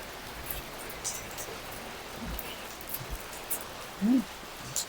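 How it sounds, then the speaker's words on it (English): Heavy rain falling outdoors, a faint, steady hiss with scattered soft drips and taps, plus a brief low thud near the end. "it's raining heavily, like quite dense"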